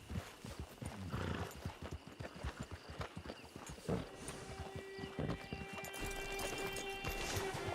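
Horse hooves in the video game Red Dead Redemption 2 clip-clop in a steady trotting rhythm, close and clear, with a brief whinny and a faint tonal hum later.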